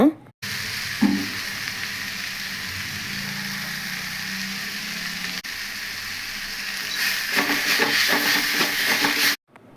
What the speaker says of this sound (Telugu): ఇదిగోండి చిక్కుడుకాయ ఫ్రై చేస్తున్నా